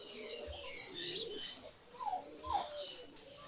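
Pigeons in their loft coo softly on a winter morning, a few low, faint calls with light chirps and quiet rustling nearby.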